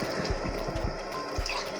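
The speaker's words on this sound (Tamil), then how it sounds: "இப்போ 1 கப் ரைஸுக்கு 2 டம்ளர் தண்ணி சேர்த்துக்கலாம்." Water pours into rice in a cooking pot for poondu vethalai sadham, a steady close splashing gush running under faint clattering throughout.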